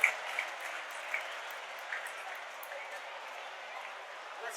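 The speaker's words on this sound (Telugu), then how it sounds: "గట్టిగా చప్పట్లు కొట్టాలి." Audience clapping at an awards gathering on road safety held in Jadcherla, steady mid-distance applause running the whole time with a few louder claps near the start.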